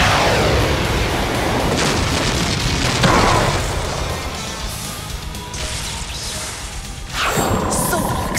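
A magical explosion attack in an English-dubbed anime battle erupts as a loud, sustained roar of booming, crashing blasts. It surges again near the end with a fresh burst.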